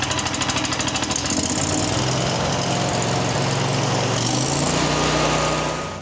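A 35 hp Mech Maxx towable wood chipper engine starts up loud and close, with a fast rapid-fire chugging that settles into a steady rough roar and keeps running without a break. No voices can be heard.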